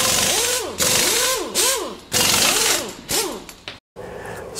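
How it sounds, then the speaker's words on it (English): Screwdriver loosening the DB15 video cable screws on a G3 iMac, heard as several bursts of close, whirring, ratchet-like mechanical turning separated by short pauses. "And I like to use a screwdriver on the video cable."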